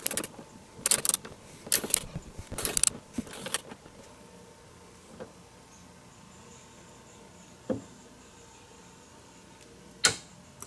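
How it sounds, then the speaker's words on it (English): A torque wrench tightens a sway bar bushing bolt on a DeLorean with a cluster of sharp ratcheting clicks up close, then a few isolated clicks spaced seconds apart, with no talking. "Okay, so we have our torque wrench sent to 26."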